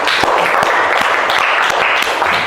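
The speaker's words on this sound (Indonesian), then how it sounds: "Tepuk tangan dulu" Classroom applause for a student named Felis at a junior high school in Pekanbaru: steady, dense clapping from a group of pupils, fairly loud and continuous, with a few sharper individual claps standing out.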